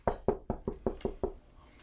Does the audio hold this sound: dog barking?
no